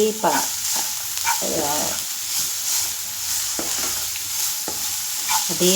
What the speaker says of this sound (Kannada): ನೋಡಿ ನಾವು ಈಗ ಕ್ಯಾರೆಟನ್ನು ಕೂಡ ಹಾಕಿ ಅದನ್ನು ಕೂಡ ಸ್ವಲ್ಪ ಚೆನ್ನಾಗಿ ರೋಸ್ಟ್ ಮಾಡ್ಕೊಳ್ತಾ ಇದ್ದೀವಿ